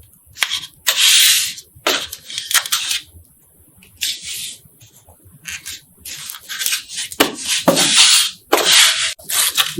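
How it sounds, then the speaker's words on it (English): Tape being pulled and pressed onto a workpiece for a concrete mold in a workshop, in several bursts of close, crackly tearing and rubbing with quiet gaps between. "I'm going to put some tape on my piece here."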